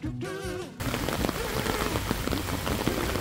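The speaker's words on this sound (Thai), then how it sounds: "ยังไม่ได้อาบน้ำเลยฝนตกหนักมาก" Heavy rain pours down steadily on a campground cabin in Chonburi, Thailand, a dense patter on surfaces that swells in after a brief tonal sound at the start and continues loudly.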